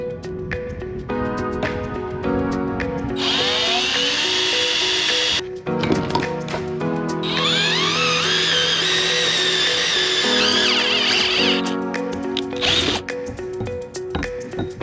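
A power tool cuts universal zinc anodes to size aboard a catamaran, giving a loud, steady, whining grind in long bursts separated by brief pauses.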